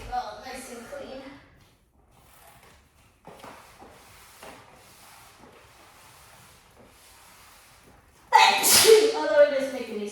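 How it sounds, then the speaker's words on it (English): A sudden loud sneeze bursts out near the end after a stretch of quiet rustling and faint background sounds. "Although it is making me sneeze."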